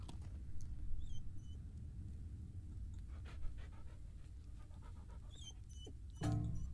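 Dog panting in the Mystery Case Files: Dire Grove video game, a steady soft huffing rhythm at low level under faint game ambience, with a louder burst near the end.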